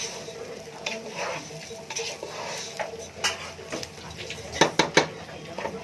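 Rice for biryani fries in a pot on a stove while a utensil scrapes and stirs, with irregular clinks and scrapes over a soft sizzle that grow louder and more frequent toward the end.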